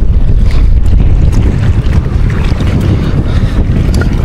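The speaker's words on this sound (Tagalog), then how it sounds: "Medyo mahangin po ngayon." Strong wind buffets the microphone aboard a small boat near fish ponds, a loud, steady rumbling roar with gusty surges and no pauses.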